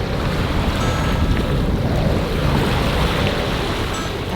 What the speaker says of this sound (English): When the waves are high, you can actually hear the sounds from the ocean.